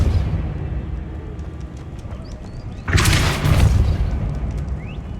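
A Depulso spell cast in Hogwarts Legacy, heard as a low ambient rumble with faint chirps giving way to a sudden broad whooshing burst of impact that swells and lingers for a couple of seconds.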